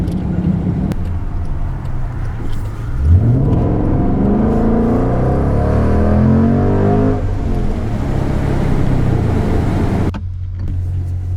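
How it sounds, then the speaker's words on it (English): A powerful 550-horsepower V8 engine in a 2021 Jaguar F-PACE SVR revs up and climbs through the gears with a rising roar, then settles back to a deep idle rumble. "fire-breathing 550 horsepower V8"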